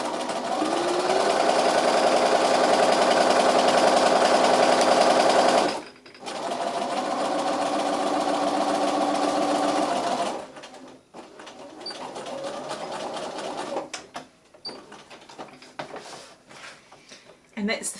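A sewing machine runs a back stitch on fabric for a French seam: a loud, close, steady mechanical whir in two long bursts with a short pause between, then quieter handling noises.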